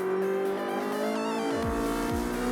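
A Ferrari Challenge race car accelerates hard at Paul Ricard Circuit, a loud continuous engine roar with rising pitch, passing close and shifting as another car's note sweeps by beneath it.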